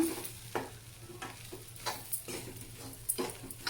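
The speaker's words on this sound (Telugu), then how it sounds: "ఇలా అంతా వేయించేసుకోండి ఇలా వేయించుతుంటే మంచి వాసన వస్తుందండి" Cluster beans with freshly ground coconut, green chilli and spice powder fry and get stirred in a pan, with a soft continuous sizzle broken by repeated scraping strokes of a spoon at a steady rhythm.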